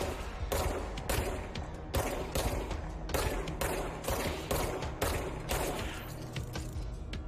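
Enemies in the video game Control fire guns in repeated rapid bursts, loud and close, with short gaps between volleys.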